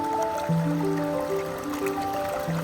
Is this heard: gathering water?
yes